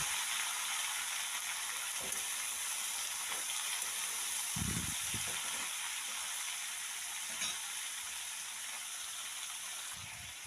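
Cut vegetables tipped into hot oil seasoned with panch phoron fry with a steady close sizzle, broken by a few louder splattering bursts and stirring clatters.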